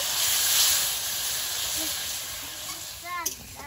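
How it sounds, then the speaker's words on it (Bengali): A splash of water hits frying spice masala in a pan, setting off a loud close steamy hiss that slowly fades, with a brief voice heard near the end. "সামান্য একটু জল দিয়ে দিচ্ছি মশলাটা ভালোভাবে কষা হওয়ার জন্য"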